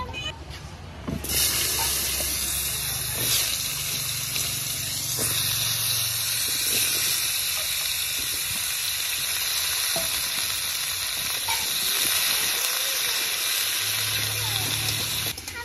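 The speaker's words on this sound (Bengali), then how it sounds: "এবার ওলকপি আলু ভেজে নেব।" Kohlrabi and potato pieces fry in hot oil, hissing loudly and steadily up close. Occasional stirring knocks and scrapes rise above the sizzle.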